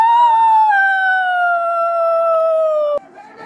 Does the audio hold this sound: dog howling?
yes